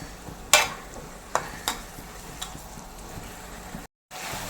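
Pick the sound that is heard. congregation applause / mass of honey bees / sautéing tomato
sautéing tomato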